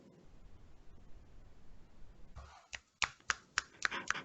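Audience members at a poetry reading snap their fingers after a poem, a quick run of about six sharp snaps in the final two seconds, following a stretch of faint hiss.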